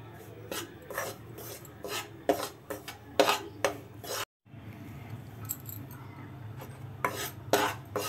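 A spatula scrapes and rasps against a pan as besan (gram flour) is stirred while roasting, in a run of close, irregular scrapes broken by a short pause before more stirring.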